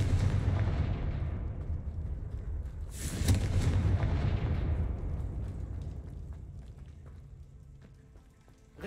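Confringo fire-spell explosion in Hogwarts Legacy, a loud burst around three seconds that rumbles and fades slowly over a dense, roaring background of game noise.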